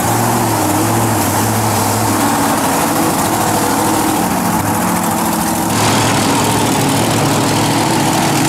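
The Max D Monster Jam truck's big engine idles with a loud, steady, throbbing rumble up close, and its note shifts slightly partway through with no talk over it.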